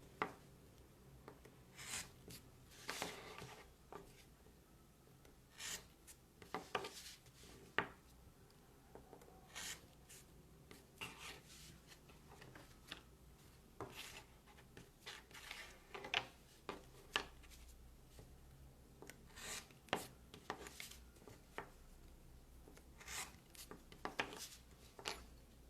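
A fine hair-thin craft blade draws through paper for a concertina album, giving soft scratchy scraping strokes and light rustles, close but faint, scattered irregularly with no talk.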